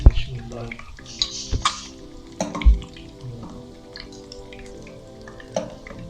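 Fried eggs lifted out of a pan of hot oil: clinks and scrapes of a utensil against the pan in a few sharp knocks, over a soft continuous sizzle, close by.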